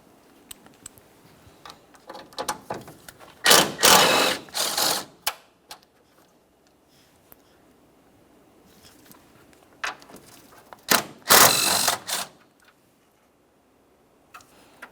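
Ratchet clicks while 10mm mounting bolts come out of the condenser cooling fan on a 2012-2015 Honda Civic 1.8L, with two loud bursts of rapid ratcheting among scattered lighter clicks and taps.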